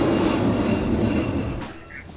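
Loud, broad jet roar of a private jet airplane taking off, a steady rushing engine noise that starts to fade near the end as the plane pulls away.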